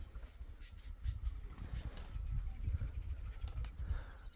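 Several birds call in a damp hillside spot, including spotted doves, with soft low cooing and scattered chirps at a moderate distance over a faint outdoor background, with no voices.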